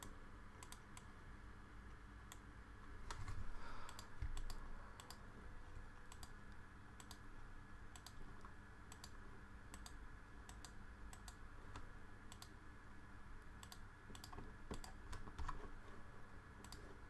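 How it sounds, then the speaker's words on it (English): Quiet computer keyboard typing during STAAD Pro structural software work, scattered key clicks in irregular bursts throughout, faint and close with a low room hum beneath and no talking. "we can press Shift plus V option on a keyboard to switch off the values"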